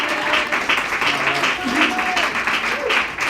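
Audience applause at a National Federation of the Blind convention in Tennessee, a steady wash of clapping from a crowd that runs the whole time, with a voice faintly heard over it.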